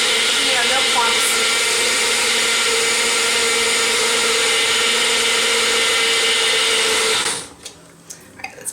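Blender whirring loudly and steadily through vegan gluten-free pancake batter for about seven seconds, then cutting off abruptly, followed by a few soft knocks.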